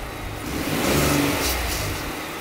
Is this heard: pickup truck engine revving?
yes